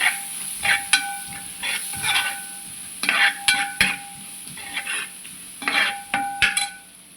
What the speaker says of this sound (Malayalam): എന്നിട്ട് നല്ലതുപോലെ മിക്സ് ചെയ്ത് കൊടുക്കണം.